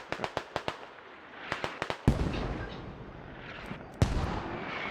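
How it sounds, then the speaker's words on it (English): Mortar fire and explosions in the video game Squad on the Gorodok map, a quick series of sharp reports followed by heavier booming blasts at a moderate distance. "Looks like we're getting VaC mortars down"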